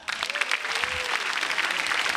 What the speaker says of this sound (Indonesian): Sekali lagi boleh tepuk tangan buat Oki Rengga.